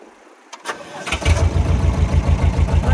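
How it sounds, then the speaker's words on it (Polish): The Deutz diesel engine of a Hamm HD 10K combination roller cranks briefly, catches and settles into a close, loud, lumpy idle with a steady pulsing chug. "No i na wolnych obrotach sobie pracuje."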